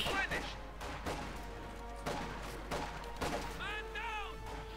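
Gunfire crackles repeatedly in Company of Heroes 2, a real-time strategy game battle with German Wehrmacht troops, as several sharp shots and bursts sound under steady game ambience, with a tone rising and falling near the end.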